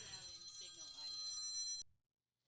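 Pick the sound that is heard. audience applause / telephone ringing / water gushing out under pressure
telephone ringing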